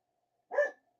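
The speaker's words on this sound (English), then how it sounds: "the neighbor dogs bark at everything, and now they bark" Dogs at a neighboring property bark in a single short burst at moderate distance, loud and clear against an otherwise quiet background, with no talking over it.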